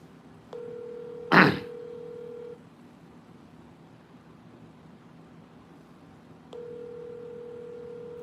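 A phone number is dialed on a telephone: a steady dial tone, one short burst of keypad tone, then the tone cuts off and returns several seconds later, fairly quiet with no talking.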